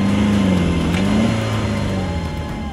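Off-road vehicle engine revs hard and steadily as it climbs over a sand summit, a loud, close, sustained drone with shifting pitch that eases slightly toward the end.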